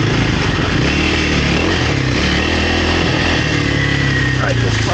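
A Kawasaki KLX300R dirt bike engine labours up a steep trail hill, holding a loud, continuous buzzing drone close to the rider, with wind noise and a rider's voice talking over it.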